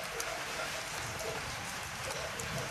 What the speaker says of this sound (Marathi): बाहेर आहे ना भरपूर पाऊस चालू आहे